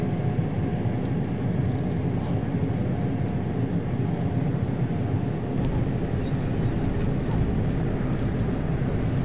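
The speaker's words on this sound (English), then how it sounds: "I'm really liking those cockpit sounds" Cockpit of a Carenado Phenom jet in a flight simulator game, a steady low engine drone and rumble filling the cabin at constant loudness, with a few faint clicks near the end.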